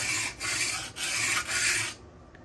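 Knife blade drawn in three long rasping strokes across a Buck Honemaster sharpener, each pass close and steady with brief pauses between, ending in quiet.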